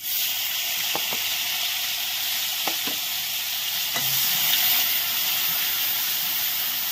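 Onion and garlic paste masala fries in hot oil with a steady, close sizzle throughout, broken by a few brief clinks and scrapes of a spoon stirring the pan.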